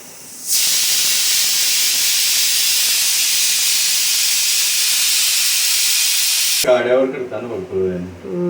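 Loud, continuous steam hiss from a pressure cooker cooking soaked white chickpeas pours out steadily for several seconds, then cuts off abruptly as a person starts talking.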